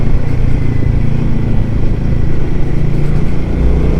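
Royal Enfield Himalayan 450 motorcycle (2024) riding through heavy city traffic, a steady loud engine drone with road rumble and wind, continuous and close throughout, with no talking.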